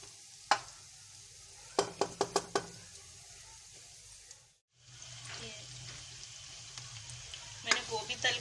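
A small onion frying in oil toward golden brown, with a low steady sizzle broken by several sharp taps of a utensil against the pan, a brief gap, then sizzling resumes with more light clinks.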